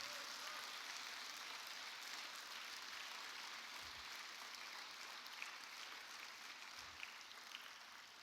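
A church congregation applauding at a Mother's Day Sunday service, steady, even clapping heard from a distance, faint and sustained throughout.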